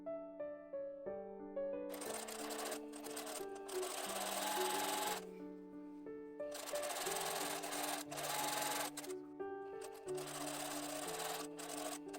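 Sewing machine edge-stitching a pressed, folded hem on a yoke tunic dress, running in steady whirring bursts with short pauses between them, close and moderately quiet.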